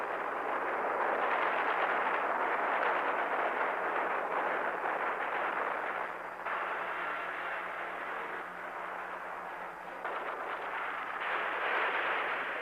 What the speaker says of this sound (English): On the second day of the war, the daily airstrikes against Manila began.